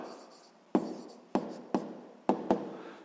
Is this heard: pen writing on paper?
yes